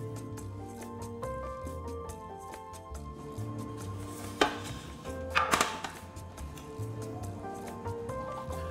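A knife slices king oyster mushrooms into thick pieces on a board, soft regular cuts under a background of tonal music, with a couple of louder knocks midway.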